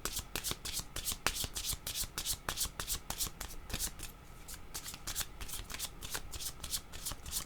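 Tarot cards shuffled and drawn by hand for a reading, giving rapid, crisp riffling flutters and slaps that repeat steadily close up, with no speech over them.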